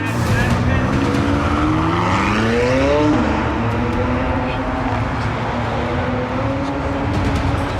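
A McLaren in a staged film stunt chase, pursued by other vehicles, its engine rising in pitch then settling into a sustained roar, loud and near, with voices faintly present.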